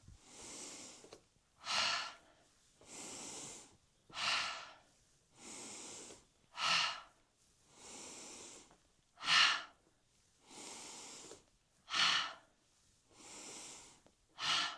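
Slow, rhythmic breathing during a qigong exercise, each audible inhale and exhale coming close and alone in a steady repeating pattern with brief quiet gaps between breaths.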